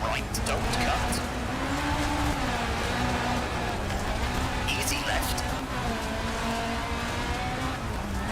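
A small front-wheel-drive rally car races a gravel forest stage in Latvia, its engine droning and changing pitch steadily throughout under continuous commentary.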